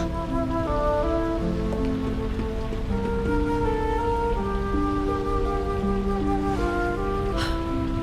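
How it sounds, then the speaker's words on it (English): Steady rain pours down in the Dragon Quest XI video game, a constant hiss running beneath a sustained musical score. "The drought breaks. Rain falls."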